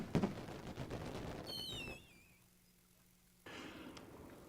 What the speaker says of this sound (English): somebody's firing off fireworks in the game